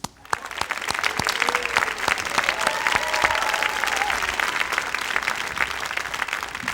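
Sustained crowd applause at a college commencement ceremony honoring graduates of the class of 2020, broad and steady with individual claps standing out and a few faint voices mixed in.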